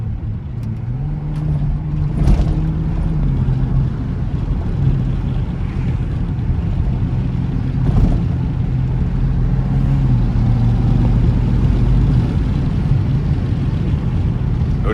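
BMW M235i driving through Johannesburg traffic, engine droning steadily with audible intake noise and shifting pitch as it pulls through the gears, close and continuous.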